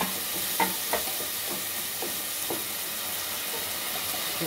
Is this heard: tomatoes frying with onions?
yes